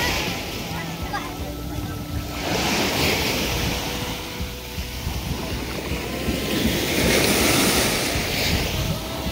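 Heavy high-tide surf crashing continuously nearby on a beach at Carles, Iloilo, Philippines, with a steady wash of breaking waves and wind buffeting the microphone.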